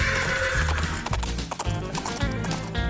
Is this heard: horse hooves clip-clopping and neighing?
yes